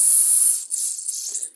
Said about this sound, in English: Bit of carb cleaner in there.